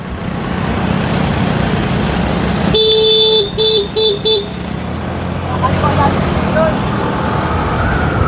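A truck on a road during a mountain bike race rumbles past amid traffic noise, with a loud multi-tone horn blast partway through and people talking over the scene.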